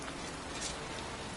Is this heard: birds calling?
no